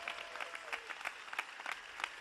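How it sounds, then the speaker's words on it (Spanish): An audience applauds sign language interpreters at a political rally, a steady patter of many hands clapping, heard faint and somewhat distant with no voices over it. "Un aplauso para los intérpretes de signos que llevan la lengua de signos a las personas sordas"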